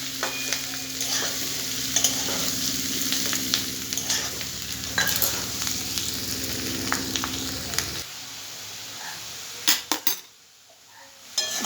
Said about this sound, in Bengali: আলু পেঁয়াজটা ভাজা হয়ে গেছে